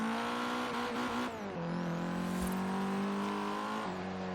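A Mazda Speed3 engine in Forza Horizon 3 revs hard toward redline, its tone climbing, dipping at a gear change around mid-clip, then holding high and steady, loud and continuous with no talk.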